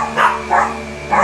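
A dog barks three times in an uneven rhythm, close and fairly loud, over a faint steady hum.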